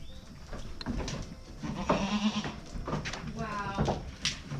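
Goats on a goat farm, including La Mancha, Saanen and Nubian breeds, bleat several times close by amid farmyard noise, with people talking over and between the calls.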